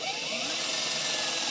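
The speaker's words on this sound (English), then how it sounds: "starting with a smaller drill bit first and working your way up" A power drill with a small bit whirs steadily at high pitch for a second or two, a continuous close grinding buzz with no pauses.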